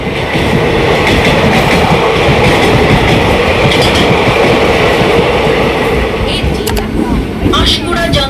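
A local train pulling into Panskura Junction, with a loud, continuous rumble of wheels and carriages and some rhythmic clatter and faint squeals toward the end.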